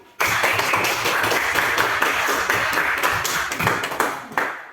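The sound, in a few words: class clapping hands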